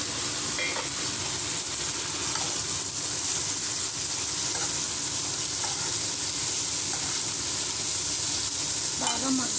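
Chopped tomatoes frying in a pan for egg curry, a steady, close, broadband sizzle running unbroken throughout with a few faint clinks and stirring scrapes, no voices.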